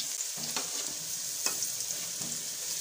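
Curry pakoras frying in hot oil, a constant bright sizzle with a few soft scraping stirs, close and steady throughout with no speech.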